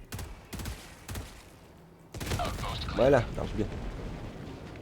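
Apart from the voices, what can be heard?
grenade explosion in video game Helldivers 2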